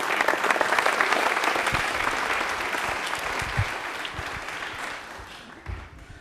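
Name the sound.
audience applause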